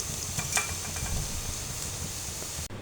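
Beef shami kebabs fry in a pan with a steady, close, even sizzle of hot oil that holds alone without pause.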